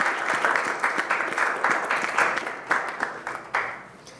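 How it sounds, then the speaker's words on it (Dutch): An audience at a Bible quiz applauds a correct answer, a moderate crowd clapping with a few sharper individual claps standing out as the sound tapers off toward the end. "Adriel is het juiste antwoord. Applaus daarvoor."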